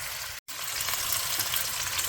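Chicken frying in hot oil gives a loud, steady sizzle and crackle of spattering grease that fills the clip, broken by one brief gap near the start.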